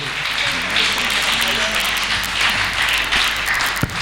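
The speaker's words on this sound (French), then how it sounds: "nous acclamons très fort pour l'encourager" A church congregation claps and cheers loudly and continuously at a celebration service, a dense wash of applause with voices mixed in.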